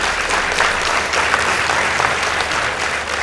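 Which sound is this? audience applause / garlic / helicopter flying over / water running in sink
audience applause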